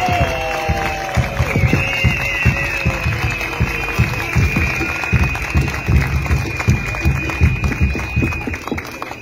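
Crowd at a Mixco, Guatemala campaign rally claps and cheers steadily for several seconds, dense rhythmic applause close by with voices shouting over a tonal hum.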